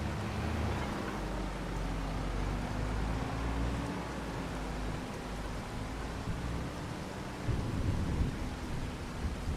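Video game rain and thunderstorm in Farming Simulator 25: steady rain with a low, continuous rumble of thunder underneath, broadband and unbroken throughout, with a slightly heavier swell near the end.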